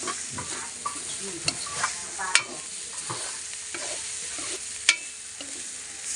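Food being stir-fried in a pan, with a continuous sizzle and occasional sharp clinks of a utensil against the pan, close and steady throughout.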